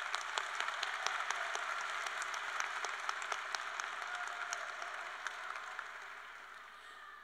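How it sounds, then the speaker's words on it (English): A large crowd at a high school graduation ceremony claps steadily and densely for the full stretch, a distant, even wash of applause with no talking over it. "I ask all of you to give yourself a big round of applause for standing here today after these past 4 years"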